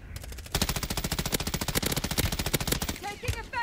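Rapid automatic gunfire in the video game Call of Duty Warzone: a loud, sustained burst of fast shots runs for about two and a half seconds, then gives way to scattered game effects.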